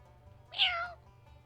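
A cat gives a single drawn-out meow, fairly loud and close, rising then falling over about half a second against a quiet low background hum.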